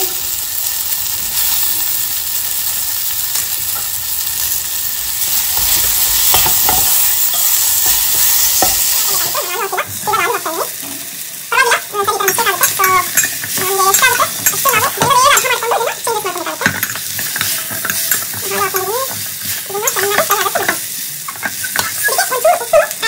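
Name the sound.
potatoes frying and being stirred in a pan for aloo methi sabji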